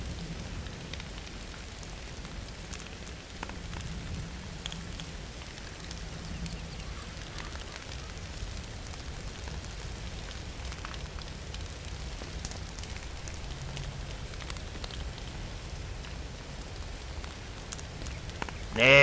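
Water sprays onto a small fire in Farming Simulator 22, giving a steady faint hiss and patter like rain on a surface, continuous for the whole stretch with a brief louder burst at the very end.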